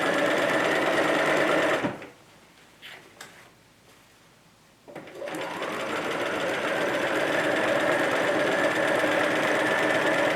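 A sewing machine stitches a fabric basket, its rapid, even mechanical run filling the opening seconds, stopping briefly for about three seconds of quiet handling, then resuming and running steadily to the end, close and loud.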